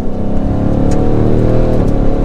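A Ford Mustang weighing around 3,900 pounds drives with its engine revving loudly and steadily up close, a dense continuous roar throughout, with no talking.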